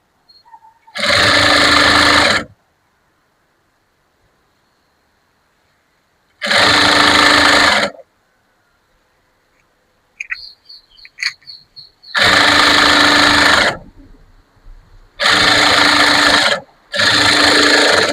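Sewing machine stitching the lining of a high puff sleeve, running loud and close in four bursts of a few seconds each, separated by silence and some light handling of fabric.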